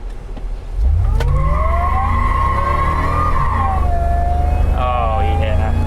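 A 2002 Ford Lightning pickup launching in first gear, the engine quickly swelling to a loud roar with a rising supercharger whine that climbs steadily, then dips briefly at a shift and climbs again, heard from inside the cab.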